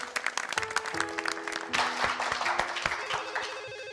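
Studio audience applause on a Turkish TV show, scattered clapping mixed with a ringing phone-like tone and sustained pitched notes, moderately quiet and fading toward the end.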